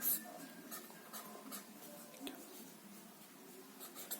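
A pen scratches steadily on a writing surface as a box diagram is drawn during a chemistry lesson on coordination chemistry, giving faint, close strokes that continue throughout.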